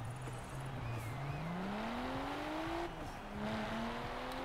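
A Nissan Skyline engine in the Forza Horizon 4 racing game revs and climbs through the gears on a street race, with rising and falling engine tones, moderately loud and with no talk.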